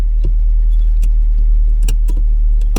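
A Talbot Express van engine idles with a loud, steady low drone just after starting, and a few faint clicks and rattles sound over it.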